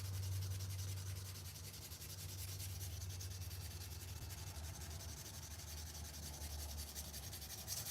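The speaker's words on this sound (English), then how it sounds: "400 grit sandpaper to try to refine the shape a little bit" A tobacco pipe is sanded with 400 grit sandpaper, giving a continuous, even rubbing rasp close by with no speech over it.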